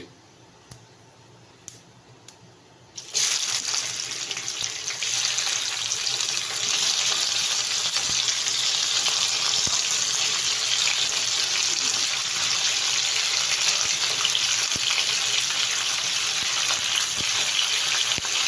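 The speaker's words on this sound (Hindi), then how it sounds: "इनका भी कलर चेंज होने तक हम इन्हें भूनेंगे ताकि इसकी स्मेल वगैरह ख़त्म हो जाए।" Chicken pieces drop into hot oil in a pan, a loud, dense sizzle that starts abruptly after a few quiet taps and holds steady and close with no talk.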